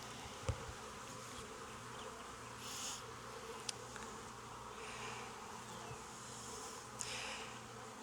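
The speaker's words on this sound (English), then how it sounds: "There's a lot of bees in the bottom too." Honey bees humming in an open hive during a virgin queen installation, a constant low drone with a few faint clicks and brief louder passes of single bees near the microphone.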